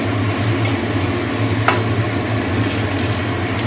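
Pumpkin slices fry in a pan with a close, steady sizzle, a low background hum and a couple of brief scraping ticks from stirring, with no talk.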